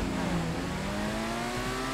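A Benefactor Krieger supercar in GTA 5 revs hard with its exhaust popping and crackling almost continuously, a loud, steady engine roar with rising tone held close for the whole stretch.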